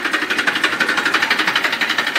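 A modified tractor engine with a custom exhaust runs close by, a loud, rapid, even thumping pulse at steady idle with no voices.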